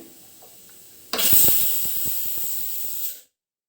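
Steam suddenly bursts out of a pressure cooker after its whistles, cooking chicken pulao with rice, giving a loud, steady close hiss for about two seconds before cutting off to silence.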